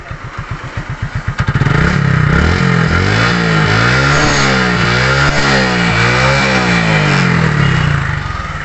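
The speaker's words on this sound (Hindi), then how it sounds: "इंजन का जो साउंड है वो बिल्कुल सही है" A Hero Glamour motorcycle engine, which is emitting white smoke, idles with a sputtering putter, then revs up to a loud, steady roar that rises and falls slightly before easing off.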